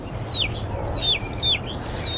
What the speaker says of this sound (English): A broody chicken in there.